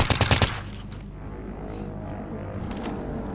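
Gunfire in Call of Duty Warzone Resurgence: a loud rapid automatic burst at the start, then a lone shot and a quieter stretch of game ambience.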